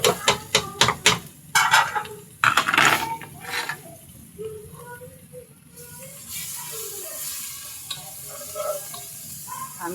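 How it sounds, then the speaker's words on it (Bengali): Turmeric and chili powder with ginger-garlic paste hitting hot oil in a pan while beef curry with taro is cooked, a run of sharp clanks of a spoon against the pan giving way to a softer steady sizzle and stirring. "এবারে আমি মশলাগুলো দিয়ে দিচ্ছি।"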